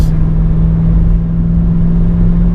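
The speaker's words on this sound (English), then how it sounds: "Missed a gear, folks." A truck engine with a manual transmission drones loud and close after a missed gear, a steady low hum with a strong constant tone throughout.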